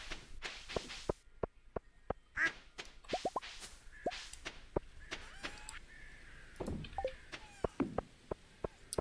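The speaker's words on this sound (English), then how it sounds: "Bunny? No, it's a duck. It's a duck." Several brief duck quacks in the farming game Stardew Valley, scattered among rapid clicking footstep taps and soft game effects, with no voices.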